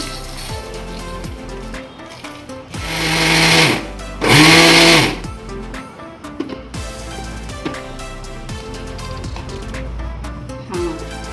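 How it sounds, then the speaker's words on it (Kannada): Roasted pumpkin seeds ground to a chutney powder in a mixer grinder jar, two short loud whirring bursts with small pauses and quieter handling and rattling around them, close by. "ಈಗ ಹೊತ್ತಿರೋದನ್ನೆಲ್ಲ ಈ ಜಾರ್ಗೆ ಹಾಕ್ಕೊಂಡು ಪುಡಿ ಮಾಡ್ಕೊಳ್ಳೋಣ"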